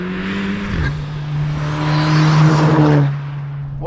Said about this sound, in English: Third gear in this is very rapid.